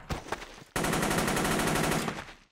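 Sustained burst of automatic gunfire in a 5v5 multiplayer war shooter match on the Khyber map, loud and dense for about a second and a half after a short stretch of voices and chatter.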